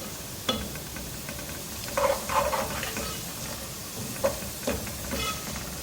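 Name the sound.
whole spices sizzling: black pepper, cloves, cumin frying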